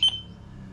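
A PGST smart security system sensor alarm gives a single short, loud electronic beep at the start, then quiet room noise follows.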